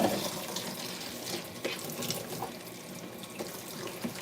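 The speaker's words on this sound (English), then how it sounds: "Let me put y'all back up here so I can rinse these dishes." Tap water runs steadily into a sink while dishes are rinsed, a continuous close splashing wash with occasional clinks and small bumps, and no talk over it.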